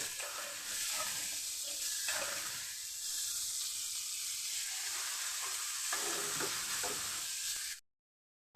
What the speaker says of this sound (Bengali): আর কাঁচা লঙ্কা নিয়েছি আমি ভেজে নিচ্ছি সবগুলি একসাথে দিয়ে ভেজে নিচ্ছি